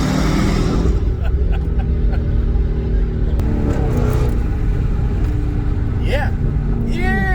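Dodge Charger Hellcat Redeye V8 engine roaring loud and close inside a tunnel, a sustained deep rumble with echoing passes and rising whine near the end, people talking over it.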